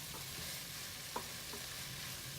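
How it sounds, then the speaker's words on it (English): Cooked okra being stirred in a pan over very low heat gives a faint, steady hiss with a couple of soft utensil taps, quiet and close with no voices. "Just gonna stir it for like a minute or 2."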